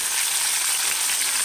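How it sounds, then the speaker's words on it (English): Oversized tater tots frying in olive oil in a pan, giving off a steady, close, crackling sizzle of hot oil with no voices over it. "I got olive oil in the pan. I got these oversized tater tots."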